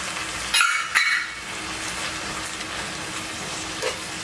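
Bacon jam with balsamic vinegar and brown sugar sizzles in a pan, a steady hiss with a couple of brief louder bursts of stirring near the start.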